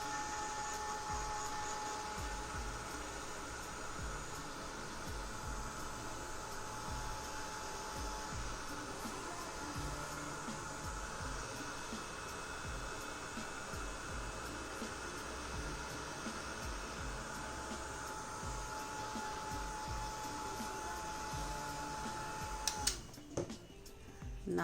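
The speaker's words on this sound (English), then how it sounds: "I will just use my heat gun, and that is going to make my work really easy" A heat gun dries a Mod Podge photo transfer on wood, a steady, quiet blowing hum with a faint whine that runs continuously and cuts off near the end.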